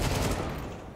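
Rapid Desert Eagle pistol shots fire in Counter-Strike 2, loud and close, forming a dense fusillade with no pause across the full second.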